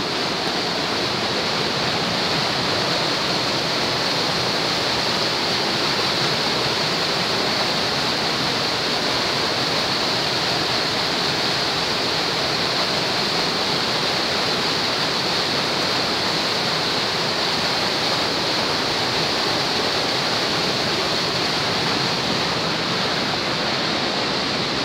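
Buchanty Spout, a waterfall in Perthshire, roars in a steady, loud, unbroken rush of falling water that holds constant throughout with no voices.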